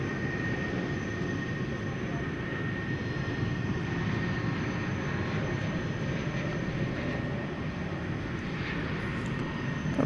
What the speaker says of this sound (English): Another Frontier flight coming in there